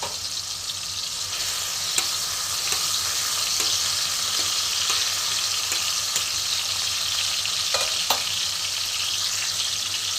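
Tomato fries in a pan with a steady hiss and sizzle, broken by a few light clicks and scrapes as it is stirred, close and alone without talk.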